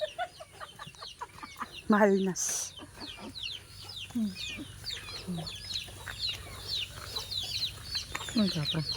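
A group of farm chickens out in the fields clucks and chatters in overlapping bursts, with one louder squawk near the start and a brief spoken word mixed in among the birds.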